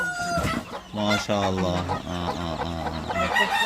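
Free-range country chickens cluck and call close by in a busy, repeated run of squawky notes, with a rooster-like crowing tone mixed in.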